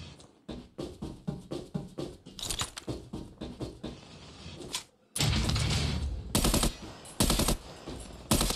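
Rapid bursts of automatic gunfire from a shooter video game crackle in quick repeated volleys, then give way to a denser, louder stretch of shots and blasts with no one speaking.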